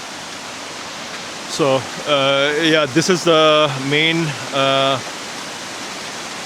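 The Allerheiligen waterfall in the Black Forest, Germany, roars as a steady broad rushing noise, with someone talking briefly over it.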